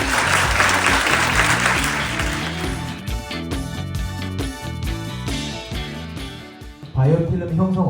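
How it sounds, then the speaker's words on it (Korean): Audience applause for students at a school research presentation event, a broad steady clapping wash under loud music that fades toward the end before a brief voice comes in. "오늘 발표 준비한 우리 모든 학생들 열정과 노력에 큰 박수를 보내면서"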